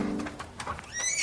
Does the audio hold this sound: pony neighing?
yes